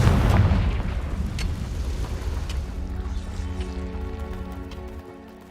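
A Confringo fire blast spell from Hogwarts Legacy bursts with a loud booming hit up front, then trails off into a long rumbling, crackling decay that fades out over several seconds.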